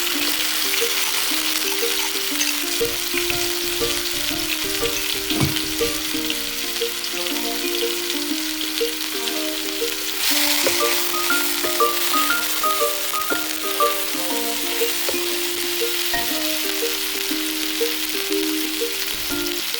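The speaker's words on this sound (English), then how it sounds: "It's gonna splatter because they're wet." Wet vegetables hit hot fat in a pan for fried rice and sizzle loudly and steadily, a continuous crackling hiss with spattering pops and occasional stirring rattles.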